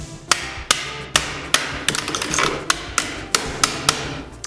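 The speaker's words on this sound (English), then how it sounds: "if you look at the real ones, it has a lot of dings, so you have to whack them" Hammer whacking a full-steel airsoft AK to dent it, about a dozen sharp metallic strikes in an even steady rhythm, loud and close with no talk.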